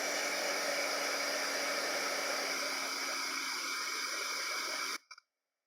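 A hair dryer blows over craft paint, making a steady, fairly close whooshing whir that runs for about five seconds and then cuts off with a brief click.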